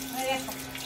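Water splashing and pouring close by as a small child is bathed at home in hot weather, a steady wet gush with light splashes, and people talking over it.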